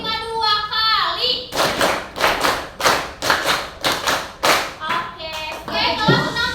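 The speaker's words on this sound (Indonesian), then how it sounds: "Sekali lagi tepuk 5 2 kali" A class of sixth-grade children claps in unison, two quick rounds of five sharp, loud, close claps each, with a voice speaking just before and after the clapping.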